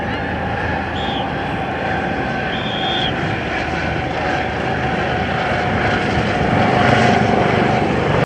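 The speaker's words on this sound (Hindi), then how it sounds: "नैन्सी पेलोसी के ताइवान पहुंचते ही चीन ने ताइवान के डिफेंस जोन को चारों तरफ से घेर लिया और 21 लड़ाकू विमान तैनात कर दिए थे।" A military fighter aircraft roars overhead in a sustained, loud, broadband engine rumble that swells slightly near the end, heard alone with no talk.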